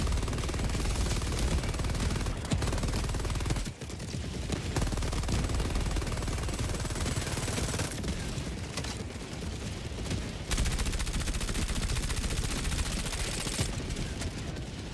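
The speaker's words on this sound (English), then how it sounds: "I killed a thing with the Halo SMG" Rapid bursts of Halo SMG fire rattle almost nonstop in a video game, sustained automatic gunfire with a few short breaks between volleys, loud and steady with no talk.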